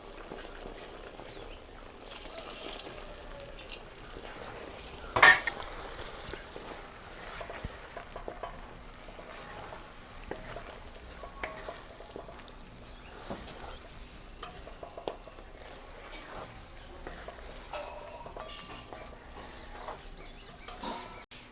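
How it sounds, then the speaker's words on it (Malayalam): Fried cauliflower is stirred into Gobi Manchurian in a pan, giving a faint steady sizzle with soft scraping and pattering and one sharper knock of the spoon. "ഇനി ഇതിലേക്ക് നമുക്ക് അവസാനമായിട്ട് ഫ്രൈ ചെയ്ത് വെച്ച കോളിഫ്ലവർ ചേർത്ത് മിക്സാക്കാം."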